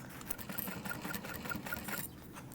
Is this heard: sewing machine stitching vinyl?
yes